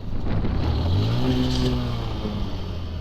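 A Pulsar 125 motorcycle engine strains uphill in fifth gear on a hilly road, a low, labouring drone that holds nearly steady under constant wind rush.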